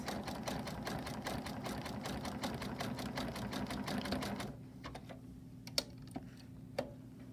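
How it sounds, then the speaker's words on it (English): A sewing machine runs a zigzag stitch with metallic thread in the bobbin, a rapid steady mechanical clatter for several seconds that then stops, leaving a low hum and a few small clicks. "I've set my machine on a zigzag stitch."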